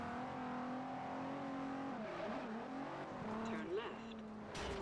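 A Nissan GT-R engine in Forza Horizon drones steadily, then dips and swoops with gear changes and revs, with a brief tyre squeal near the end and a voice talking over it.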